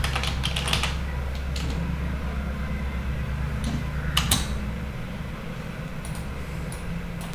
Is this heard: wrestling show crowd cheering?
no